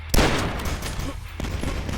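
Gunfire from the first-person shooter Dusk: one loud, close blast is followed by a quick string of further shots with reverberant tails, filling about two seconds.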